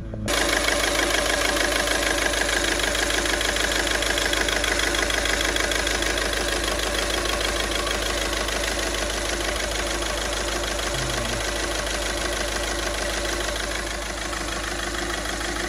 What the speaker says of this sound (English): That's jolting around a fair bit, that engine